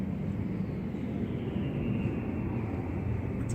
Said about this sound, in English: it's a plane, that's cool.